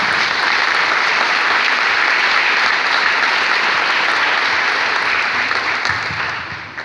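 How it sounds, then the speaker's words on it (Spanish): An audience at a public talk in Xalapa applauds a speaker, with dense, sustained clapping that fills the room before fading near the end. "Un aplauso para el doctor."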